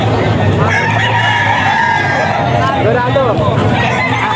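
A young rooster, a stag, crows in a pen among other fowl, its call rising and falling clearly nearby over a low steady hum and faint background chatter.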